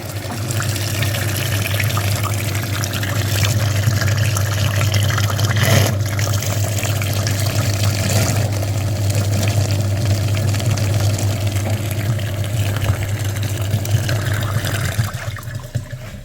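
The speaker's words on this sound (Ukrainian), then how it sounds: "Підключились окремо на передній радіатор. Включаємо насос." An electric flushing pump drives coolant through the front radiator of a VW Passat B7 during a cooling system flush, giving a continuous close hum with rushing liquid that holds steady throughout, no talking.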